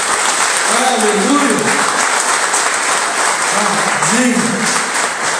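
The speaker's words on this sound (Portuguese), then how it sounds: "Você pode aplaudir ao Senhor." A church congregation applauding at an anniversary service, sustained loud clapping from a crowd throughout, with people calling out over it.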